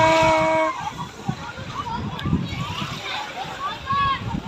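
A child jumps into a pool at a holiday spot in Çeşme, splashing and sloshing water nearby, with an adult and kids talking and cheering over and between the splashes.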